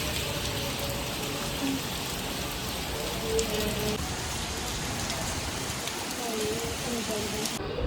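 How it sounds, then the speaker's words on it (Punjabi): Heavy rain falls at Gurdwara Shri Manikaran Sahib in the mountains near a river: a dense, even patter pours down throughout, with a voice faintly heard beneath it. "ਬਾਰਿਸ਼ ਹੋ ਰਹੀ ਹੈ"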